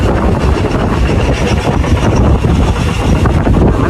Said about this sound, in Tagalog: Sobrang lakas ang hangin